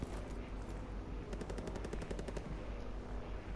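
Machine-gun fire in the World War II shooter Call of Duty: WWII comes as one rapid, loud burst of about a dozen shots over a dense, rumbling battle backdrop.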